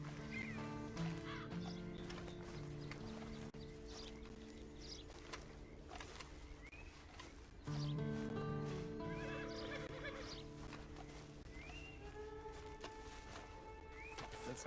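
Horses whinnying and hooves clopping in the video game Red Dead Redemption 2, with repeated neighs over a steady ambient outdoor background and no speech.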